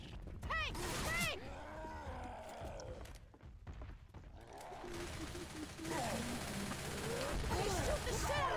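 Gunfire from Left 4 Dead 2 rattles in dense bursts amid a busy game mix with creaks and mechanical clatter, while players shout and talk over it.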